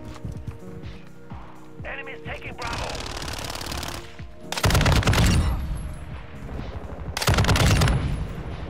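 Live machine gun fire in a multiplayer shooter's domination match: two loud, sustained rattling bursts a few seconds apart, set against ongoing game noise with voices talking.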